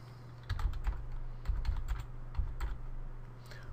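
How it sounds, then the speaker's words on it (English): Typing on a computer keyboard, with quiet clicks in short irregular bursts close to the microphone and no speech. "I'm going to type winlogon.exe and then run this"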